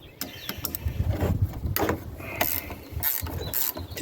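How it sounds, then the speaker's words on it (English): Ratchet wrenches loosening 7/16 nuts on a skull-themed bike, giving rapid mechanical clicking and ratcheting bursts with metallic clanks, close and fairly loud, with no talking. "these are 7/16 nuts, and these are ratchet wrenches I got"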